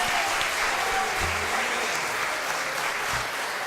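A church congregation applauds during a worship service, with steady, dense clapping that fills the room for the whole stretch and never pauses.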